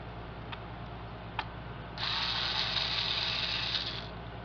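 A small screwdriver removing a tiny screw from an Acer 8372T laptop during disassembly: a couple of faint ticks, then about two seconds of fine, steady ratcheting whir, close and quiet.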